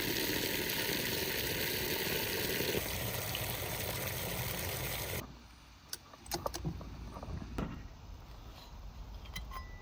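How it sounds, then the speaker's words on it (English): Water pours into a bucket half full of cut grass, a loud steady rushing stream that stops abruptly, followed by quieter drips, knocks and handling sounds. "Now I need to fill the bucket with water."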